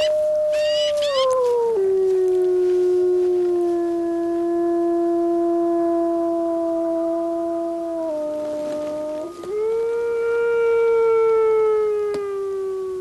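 A wolf pack howls in long, sustained, overlapping tones. The voices slide down, hold steady, then rise again in a loud, continuous chorus that lasts the whole stretch.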